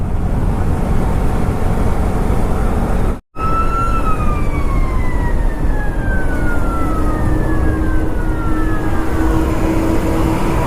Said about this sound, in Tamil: வேற மாதிரி இருக்குங்க ஃபயர் இன்ஜின் வண்டி